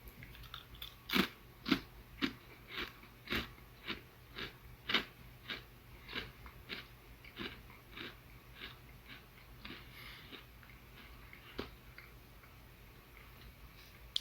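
Potato chips being bitten and chewed close up, a steady run of about twenty sharp crunches at roughly one-second intervals, loud at first and gradually softer, with no talking.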